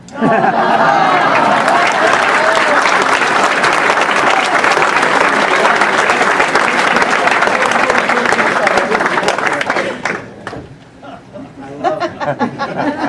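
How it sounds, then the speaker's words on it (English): A large crowd at a celebrity reception breaks into loud, dense, sustained applause for about ten seconds, then it thins out as chatter and a speaking voice take over. "Ladies and gentlemen, if this doesn't deserve a round of applause, nothing does."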